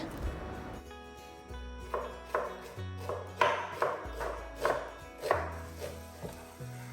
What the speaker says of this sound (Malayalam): അപ്പോൾ സവാള ഒന്ന് കട്ട് ചെയ്തെടുക്കട്ടെ